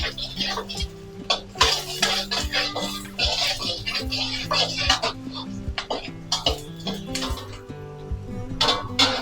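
Onion and garlic fry in a pan while a spoon scrapes and clinks against the metal in an irregular rhythm. A soft sizzle runs underneath, with occasional coughs and background music.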